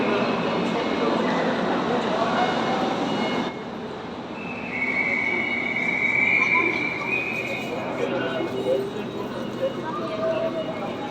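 A train rumbles and screeches at a busy station, with a broad rolling noise, a high metallic squeal midway and crowd bustle throughout; people talk in the background.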